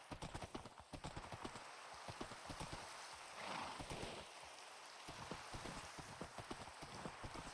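In TerraFirmaGreg a horse clip-clops in a steady trotting rhythm of hoof knocks over a background hiss of falling rain, with a brief swell of noise midway.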